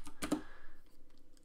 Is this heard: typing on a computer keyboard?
yes